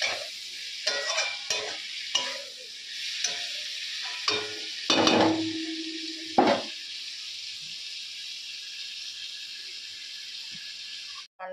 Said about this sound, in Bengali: ফ্রেন্ড ভাজা ভাজা হয়ে গেছে বলে আমি চিংড়ি মাছগুলো দিয়ে দিয়েছি।